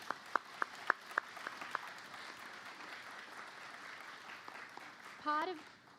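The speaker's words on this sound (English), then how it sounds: "Can you just give them a round of applause?" Audience applause at the end of a school concert performance at a secondary school's end-of-year concert evening, a scattering of sharp claps at the start settling into a steady, moderately distant patter of clapping, with a brief voice near the end.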